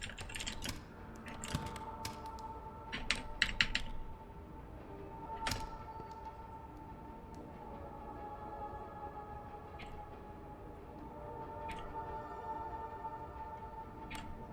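Keyboard typing during play of the game Dead Letter Dept, with bursts of fast key clatter early on and then sparse keystrokes over a steady low background hum, with no talk.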